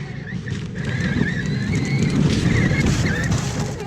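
Power Wheels ride-on toy car, rewired to run on 11.1-volt RC car batteries, driving outdoors at dusk with a steady whirring motor drone and rumble, plus some wind on the microphone.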